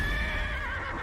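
A horse in the online role-playing game Neverwinter gives a short, bright whinny with a steady tone. It sounds close and clear against the game's background sound, with no talk.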